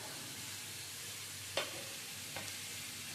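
Chicken, mushroom and vegetables fry in a pan, giving a soft, even sizzle with two brief scraping stirs partway through.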